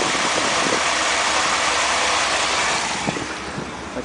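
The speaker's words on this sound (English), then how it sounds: "I'm going to start it up." A 1967 Ford F-100 stepside pickup's V8 with twin glass-pack mufflers rumbles at a steady, loud idle close by, the level easing slightly near the end; no talking.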